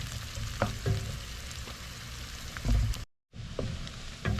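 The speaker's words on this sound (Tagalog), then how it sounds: "Hintayin natin masute ang sibuyas." Onions sizzle and fry steadily in a pan for chicken kaldereta, with a few stirring knocks and a brief dropout near the end before the frying resumes.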